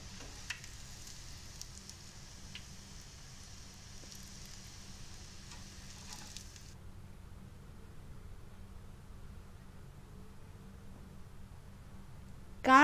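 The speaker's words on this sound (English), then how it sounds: "Fry them in batches." Eggplant pieces frying in batches in hot oil, a soft steady sizzle with faint crackling throughout, quiet and close, ending with a brief louder clatter.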